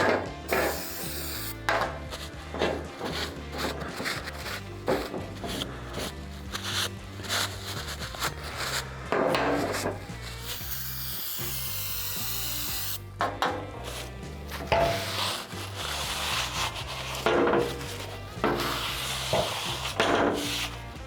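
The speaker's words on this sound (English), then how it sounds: "just continuously wipe your rag until it comes out near clean" A rag rubbing and wiping over a rusty metal surface coated with pre-painting prep, heard as continuous close scraping and rubbing strokes in a steady back-and-forth rhythm with short pauses.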